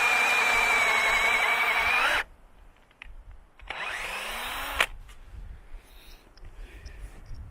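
Power drill boring a tap hole into a maple trunk about three feet up, a loud high whine for about two seconds, then a pause and a second shorter burst, with quiet outdoor background after.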